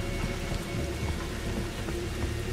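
Heavy blood rain pouring in the horror video game Outlast 2, a dense continuous hiss of drops hitting surfaces with low rumbling underneath, steady and loud with no voices.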